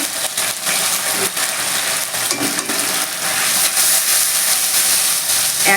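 A Bengali-style pan of hot spice tempering for a Malabar spinach curry hisses and sizzles steadily as a little water hits it, a dense broadband steam roar that holds loud and close throughout.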